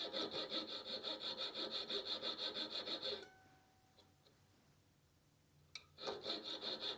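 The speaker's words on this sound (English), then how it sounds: "I'm just going to go in there with this jeweler's file and just kind of file through there" A jeweler's file scrapes back and forth through a clogged head spinner slot in quick, rhythmic strokes for about three seconds, falls quiet, then starts again. The sound is close but faint.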